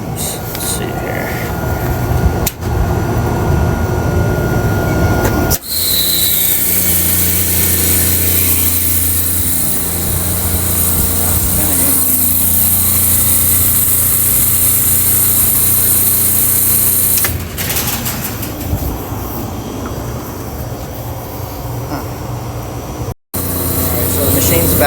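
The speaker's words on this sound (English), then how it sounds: "Machine's back on." A commercial ice machine that had been tripping its breaker runs steadily after being powered back on, a loud continuous motor drone with a brief clunk as it settles, alone without talk.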